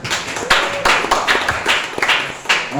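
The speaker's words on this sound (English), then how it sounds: "One applause again," Audience applause at an AI workshop, a small group clapping in uneven bursts that swell and fade over a couple of seconds, close and moderately loud.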